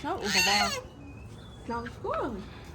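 A poultry bird gives short clucks and a rising squawk close by, a few separate calls with gaps between them in a quiet outdoor setting near Darjeeling.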